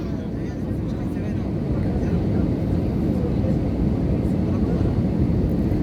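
Steady broadband roar of an airliner cabin in flight, a constant loud drone with low rumble that stays even throughout, no pauses or changes.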